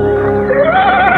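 A horse gives a loud, close whinny at a stable, one drawn-out neigh rising and wavering over a bit more than a second, heard alone with no speech.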